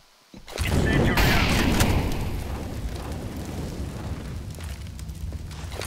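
An incendiary grenade bursts in a tactical shooter game, a sudden loud whoosh and boom that settles into a sustained roaring crackle of flames, close and dense, filling the scene without any voices.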